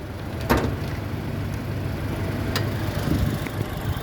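A 2012 Toyota Kijang Innova 2.0 G automatic with a 2000 cc four-cylinder petrol engine idles in a steady, smooth low hum, with a few faint clicks over the continuous drone.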